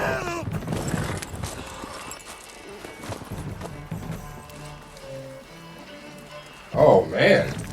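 Horse hooves clip-clopping on a wet road in falling rain in The Witcher 3, with a steady trotting rhythm under game music and a person talking over it.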